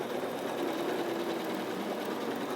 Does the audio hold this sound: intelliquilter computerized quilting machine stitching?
yes